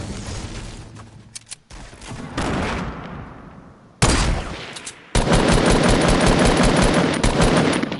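Rapid automatic gunfire in the Fortnite Battle Royale video game, loud and sustained bursts with short gaps and a steady continuous volley in the second half, no talk over it.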